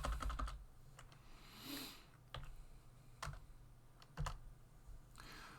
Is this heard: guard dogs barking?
no